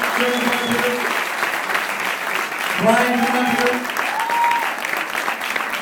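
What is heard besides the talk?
audience applause for Tennessee ambassadors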